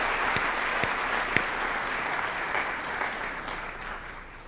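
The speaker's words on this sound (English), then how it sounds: "Let's give them one more round of applause, the Northeastern High School Orchestra, led by Ms. Johnson." An audience applauds a high school orchestra at a senior awards program, a dense, sustained clapping from a large room with a few sharper claps standing out, slowly tapering at the end.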